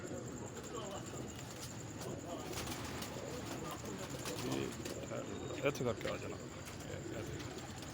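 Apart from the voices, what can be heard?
pigeons cooing on a rooftop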